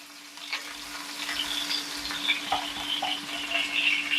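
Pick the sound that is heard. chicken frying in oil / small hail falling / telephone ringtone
chicken frying in oil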